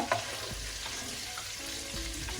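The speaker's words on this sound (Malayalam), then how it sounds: "ഇതുപോലെ വറുത്ത് കോരിയെടുക്കാം" Soft sizzle of prawns frying in oil, with a few light scrapes and clinks of a utensil, close and quiet, no voices.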